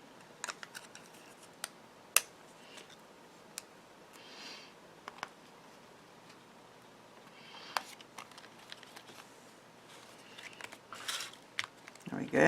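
Scissors snip through metallic cardstock, sparse crisp cuts spaced irregularly at close range over a quiet background, with soft paper handling and a louder rustle at the end.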